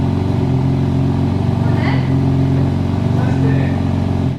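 A rebuilt, previously crashed BMW M3 Competition engine running with a steady, loud idle drone and a slight rise in revs, continuous and close throughout.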